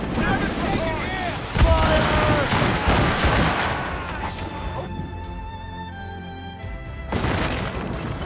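Ship cannons boom during a naval battle in Assassin's Creed Rogue, a dense barrage of heavy blasts over wind and sea noise in the first half, then fading into a lingering rumble with a tonal ring and another burst near the end.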